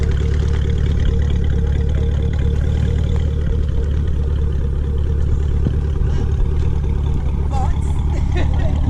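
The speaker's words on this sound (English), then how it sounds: "A louder Camaro we have here." A Chevrolet Camaro SS with high flow cats rumbles steadily at close range, a dense, loud, continuous engine drone with gritty low-end texture and no clear rev peaks, voices faintly mixed in.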